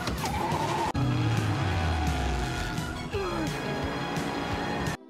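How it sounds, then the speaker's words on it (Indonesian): Film car chase from the 2022 movie Seoul Vibe, with loud skidding tires, revving engines and crashing impacts as cars collide and one overturns, a heavy jolt near the start and another around three seconds. "Terjadi saling tabrak sampai mobil Boknam tertabrak dan terbalik."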